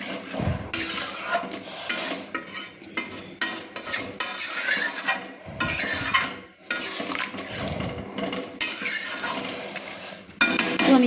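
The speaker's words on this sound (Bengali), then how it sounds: "মশলা জলটা অ্যাড করে আমি খুন্তি দিয়ে নেড়ে নিচ্ছি" A metal spatula scrapes and clatters against a pan while stirring chicken in spiced water for Chicken Changezi, irregular loud strokes with a faint sizzle underneath, close by and without talking.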